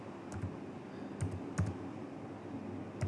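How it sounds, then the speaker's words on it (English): A few quick, light keystrokes tap out a verification code on a keyboard, spaced irregularly in a quiet room. "I'm going to type it in right now."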